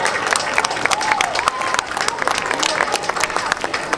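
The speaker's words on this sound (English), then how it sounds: "How about a big round of applause for all the sponsors of the Apple Festival?" Crowd applause at an apple festival parade, steady clapping mixed with scattered cheers and outdoor crowd noise, lasting throughout at moderate volume.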